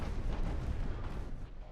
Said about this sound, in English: Still that gunfire going.